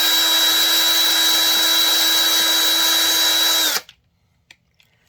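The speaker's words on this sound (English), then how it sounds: "What I'm going to do with my drill that's got a little bit of sandpaper on it is I'm going to scuff up the inside of the shaft on the putter" Electric drill fitted with sandpaper spins inside a golf putter shaft to scuff it, a loud steady high whine for about four seconds that stops abruptly, followed by a couple of small taps.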